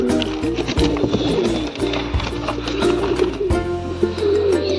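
Pigeons coo repeatedly, close by and loud, their low throaty calls overlapping in a steady chorus with rustling and fluttering around them.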